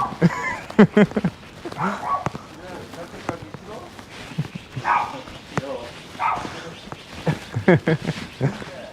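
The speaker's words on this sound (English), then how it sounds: "is it a golden retriever? I guess it's a golden retriever." A dog, apparently a golden retriever, barks and yips on an urban street in Seoul, with short bursts scattered across the scene while people talk nearby.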